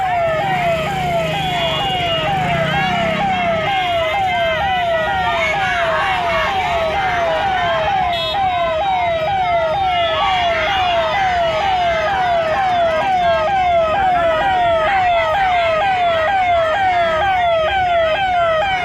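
An ambulance siren wails in a fast, repeating rising-and-falling pattern on a road crowded with protesting anganwadi workers, loud and close throughout amid traffic noise and the murmur of a crowd.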